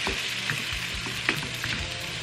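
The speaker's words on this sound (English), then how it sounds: "I'm just gonna toss these around a bit." Egg and onion frying together in a pan for fried rice, a dense, even sizzle with soft stirring scrapes, close and steady throughout, no voices.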